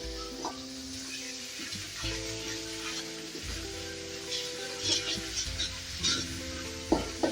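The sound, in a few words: frying spices in oil for a goat head curry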